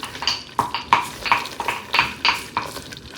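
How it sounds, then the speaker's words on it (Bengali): Brown sugar is stirred in a kadai with a utensil, giving sharp metallic scrapes and clinks in an uneven rhythm, close and fairly loud. "আর এখানে আমি কড়াইয়ের মধ্যে ব্রাউন সুগার দিয়ে দিয়েছি।"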